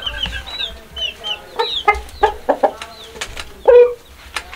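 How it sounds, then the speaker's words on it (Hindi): A rooster clucks and squawks in short, agitated bursts while being caught by hand, close and fairly loud, with brief low handling noise beneath. "तो आज ये मुर्गे को पकड़ेंगे।"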